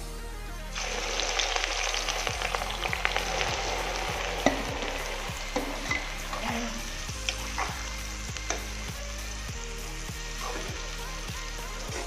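Onions with bay leaf fry in hot oil for an Amritsari kulcha dish, giving a steady loud sizzle with repeated rhythmic scrapes of a spoon stirring in the pan throughout, no talking.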